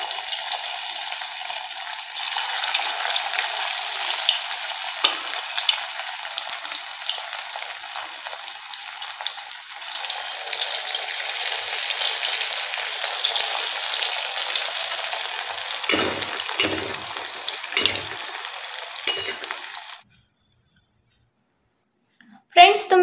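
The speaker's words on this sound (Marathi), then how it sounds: "आता आपण यांना छान लाल रंग येईपर्यंत तळून घेऊया" Onion and potato bhaji balls deep-frying in hot oil, a steady dense sizzle that runs loud and continuous for about twenty seconds, with a few stirring clatters near the end before it cuts to near silence.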